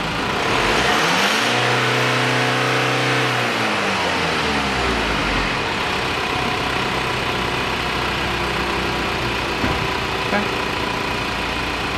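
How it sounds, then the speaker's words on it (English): A car engine revs hard during an exhaust opacity test at a workshop, rising steeply in pitch, peaking, dropping back, then settling into a loud, steady idle drone for the rest of the span. "Justin's going to give it a rev up"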